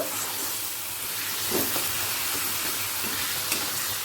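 Sugar being stirred into a Bengali matar dal bora curry, a steady close hiss of simmering with soft scraping strokes of a spoon, a couple of brief knocks standing out, no voices.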